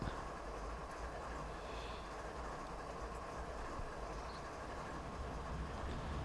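A heavy freight train in a train simulator game rolls along steadily, with a constant low rumble and wheel noise that holds at an even, moderate level throughout, with no voices.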